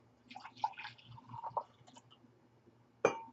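Warm matcha green tea pours into a mug with soft, quiet liquid trickles and splashes, then a brief clink near the end, up close and without speech.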